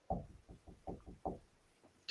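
Light knuckle taps on a door, about seven soft knocks in an uneven rhythm, close and quiet, followed by a short voiced sound at the end.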